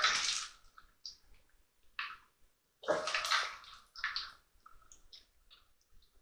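Grated carrots and onion are drained, with watery splashes and trickles in short bursts separated by near silence, faint and close, with a few light clicks.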